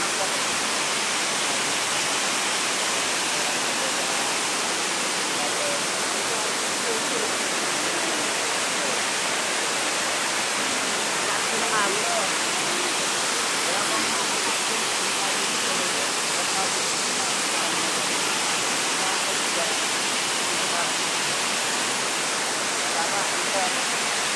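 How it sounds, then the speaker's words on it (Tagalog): Steady, dense roar of the waterfall at Wawa Dam in Rodriguez, Rizal, a constant broadband rush of falling water with no breaks, loud and close throughout. "Uy, may isa pang falls din, oh."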